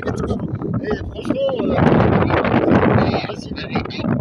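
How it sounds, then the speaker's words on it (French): Gusty wind buffeting the microphone outdoors while ice, not snow, blows through the air, a loud continuous rush that swells and eases, with a person talking over it. "Il y a du vent, c'est pas de la neige qui tombe, c'est de la glace."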